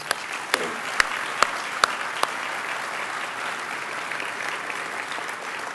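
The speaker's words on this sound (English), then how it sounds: "Let's give them all one more round of applause" A crowd at an athletic awards ceremony applauds its scholar athletes and athletes of the year with loud, sustained clapping. A few sharp, close claps stand out early over the dense, even wash of hands.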